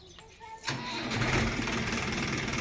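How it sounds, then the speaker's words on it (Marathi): A tractor engine cranks and catches at about the half-second mark, then settles into a loud, steady diesel rumble close by. "ट्रॅक्टर चालू झाला"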